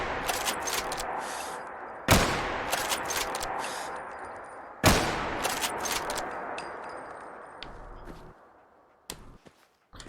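Rifle shots in the video game Fallout 4 crack out sharply, two loud reports spaced a few seconds apart, each trailing into a long, fading echo, with a fainter pop near the end.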